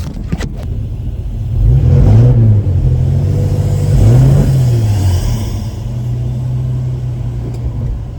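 A stock 1969 Plymouth Barracuda with a 225 engine idles loud and close, a steady low rumble that swells twice with slight unevenness, running alone without talk.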